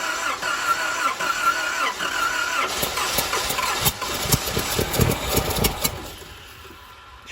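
An old abandoned truck engine cranks and sputters to life on a shot of brake cleaner, then runs roughly in a steady mid-pitched idle close by before dying away near the end.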